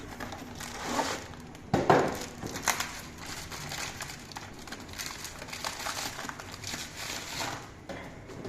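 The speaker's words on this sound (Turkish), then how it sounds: "yeni aldığımız sıfır tonerimizi açıyoruz" Packaging of a new HP LaserJet toner cartridge for an HP LaserJet Pro MFP M227fdw printer is unwrapped, giving steady crinkling and crackling with a louder rustling burst early on, close and alone.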